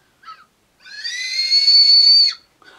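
A Japanese candy whistle gives a shrill, steady whistle blown once for about a second and a half, preceded and followed by brief softer breathy toots.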